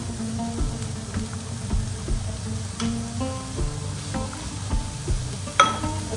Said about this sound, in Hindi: चिकन थोड़ा सा फ्राई हो जाए।